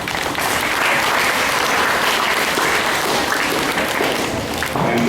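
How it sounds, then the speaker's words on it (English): Students of K R Mangalam International School in Gurgaon applauding in their assembly, a loud, dense and sustained wave of clapping from a large group that fills the room without a pause. "You deserve an applause."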